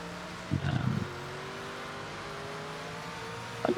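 Race car engine in the Project Motor Racing game, a steady droning hum through most of the stretch, with a short louder revving burst near the start and another rising surge at the very end.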